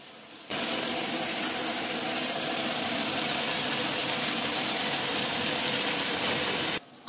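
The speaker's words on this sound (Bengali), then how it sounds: "পটলগুলোকে ভেজে নিই।" Pointed gourds (potol) fry in a pan with a loud, steady broadband sizzle that begins suddenly, holds evenly for several seconds, then cuts off.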